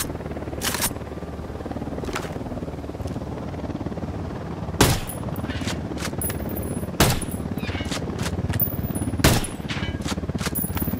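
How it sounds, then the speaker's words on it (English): Scattered gunfire in Ghost Recon Wildlands, with sharp single shots cracking at irregular intervals over a steady low ambient rumble, some close and loud, others fainter, with no talk. "Taking fire from the parking area."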